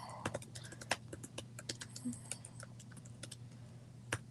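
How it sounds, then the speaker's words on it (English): Keystrokes on a computer keyboard tap out in irregular bursts of sharp clicks over a steady low hum, fairly close and moderately quiet. "I see what you're typing"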